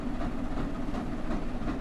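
Flying Scotsman steam locomotive and its train running on single track, a steady, loud, continuous rumble and roar with no breaks, close by.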